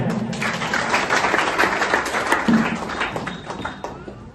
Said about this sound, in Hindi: एक जोरदार ताली हो गया।